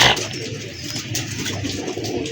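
A highflyer pigeon cooing close by, a soft low throaty murmur that carries on steadily through the moment against a little room noise.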